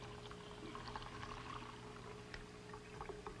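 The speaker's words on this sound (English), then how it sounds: "I'll pour some of the liquid in there," Liquid poured into a container holding a sugar bowl during a 1964 science demonstration: a steady, quiet pouring wash with a faint constant hum underneath and no voices.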